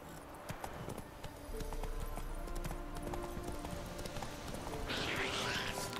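Horse hooves clip-clop at a steady trotting rhythm in The Witcher 3 on Death March difficulty, close and continuous, with someone talking over them and a brief hiss of other game sound near the end.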